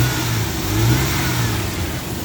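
A 1993 Ford Explorer 4x4 engine running with oil leaking from its valve covers, a steady low drone swelling slightly in a mild rev, close and alone without talk.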